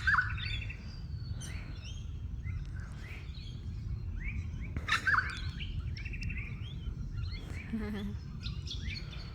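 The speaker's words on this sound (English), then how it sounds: "I think it's a rosella. It's like some type of parrot." Outdoor bird calls, a rosella-type parrot among ducks, give scattered chirps and whistled notes over steady wind and background rumble, moderately near.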